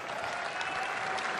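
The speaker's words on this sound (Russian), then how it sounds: "Друзья, аплодисменты победителю!" Steady applause from a crowd at a fight night, honoring the winning fighter; dense, even clapping sustained throughout without pause.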